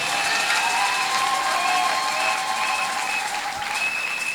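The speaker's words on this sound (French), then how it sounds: "Est-ce qu'on peut applaudir" Church congregation applauding after a skit, steady dense clapping with some cheering, fairly loud and continuous throughout, with a faint sustained tone running underneath.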